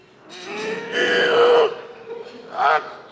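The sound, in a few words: voice imitating the sound of a man urinating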